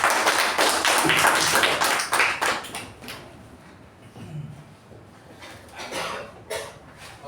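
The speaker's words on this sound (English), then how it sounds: "Toastmaster Gajendra, with a huge round of applause." Applause at a Toastmasters meeting: a burst of clapping with sharp, uneven taps, strong at the start, then thinning into scattered claps and a few knocks.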